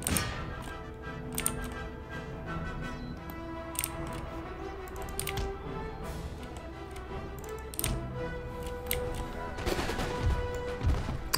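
Musket volleys and scattered infantry gunfire from an Empire: Total War battle, a line advancing on a unit of pikemen; repeated sharp cracks and distant pops over a continuous battlefield din and music bed.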